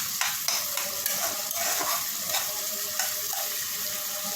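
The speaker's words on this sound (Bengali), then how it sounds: "তো পেঁয়াজটা হোক ভাজা" Onions frying in a pan in a home kitchen on low gas: a continuous close sizzle with soft stirring scrapes and faint clinks throughout, no voices.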